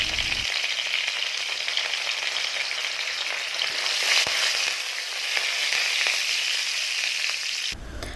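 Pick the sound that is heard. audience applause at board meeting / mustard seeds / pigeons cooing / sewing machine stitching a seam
mustard seeds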